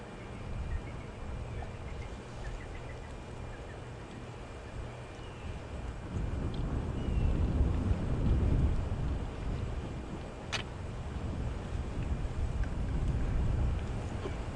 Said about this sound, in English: Unfortunately, the strong wind could make it a little bit difficult for them.